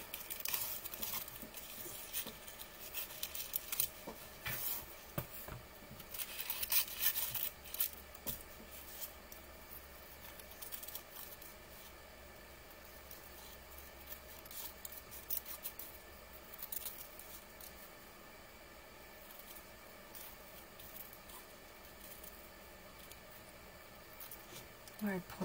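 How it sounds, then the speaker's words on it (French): Scissors snip out a small paper message for decorating an autumn-themed candle: faint, irregular cuts and light paper rustles over a steady background hiss. "Alors, je coupe le petit message."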